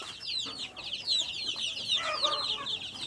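Desi hens kept with their chicks cluck and chatter in a busy flock. The calls are high and overlap in a continuous, close stream.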